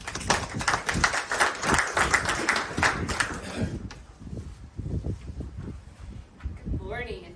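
Audience applause greets the Media Relations Manager for LG&E at the 2023 Thunder press conference: dense clapping fills the first half, then fades into quieter room noise and rustle, with a brief voice near the end.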